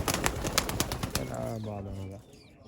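Racing pigeons coo in low, throaty rolling calls over rustling and fluttering, with a person's voice mixed in near the start.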